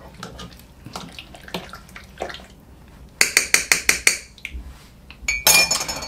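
A metal spoon stirs sauerkraut cream goulash in a pot, giving a quick run of about half a dozen sharp clinks against the pot, then scraping and clattering. Softer stirring and knocks come before them. No one speaks.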